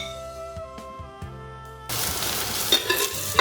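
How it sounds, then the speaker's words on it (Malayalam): Chopped shallots and green chilies hit hot coconut oil after a few metallic taps of a utensil, then a steady close sizzle with stirring scrapes as they sauté for a Kerala mackerel curry. "അത് നന്നായിട്ട് വെളിച്ചെണ്ണയിലൊന്ന് വഴറ്റിയെടുക്കാം."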